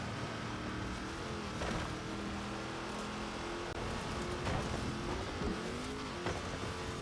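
Off-road vehicle engine revved hard toward 6,500 RPM, a steady loud drone with shifting pitch that holds throughout, close and continuous with no talking.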